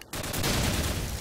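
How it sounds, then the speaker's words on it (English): Sustained burst of rapid automatic gunfire in a competitive shooter video game, loud and dense for about a second after a short quiet start. "What are you shooting at me then?"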